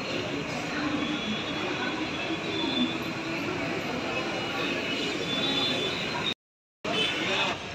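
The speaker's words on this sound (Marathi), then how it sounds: "आता ट्रेन आपली आलेली आहे." A train pulls into a station platform, giving a loud, steady rumble that fills the whole stretch, broken once by a brief gap near the end.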